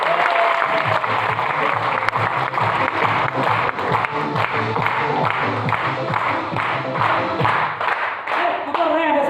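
Audience applause at a seminar in a hall, sustained dense clapping from many hands throughout, loud and close, with a few brief voices mixed in.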